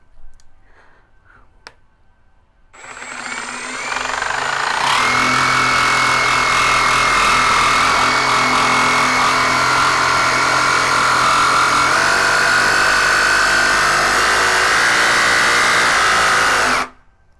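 A Milwaukee M18 Fuel brushless D-handle cordless jigsaw starts after a few faint clicks and then cuts continuously at a loud, steady whine with a rough buzzing edge for over ten seconds before stopping abruptly.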